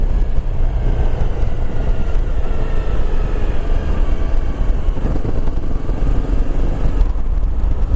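Motorcycle ridden on a rainy road, heard as a steady rumbling engine drone mixed with wind and road noise that runs unbroken and fairly loud throughout.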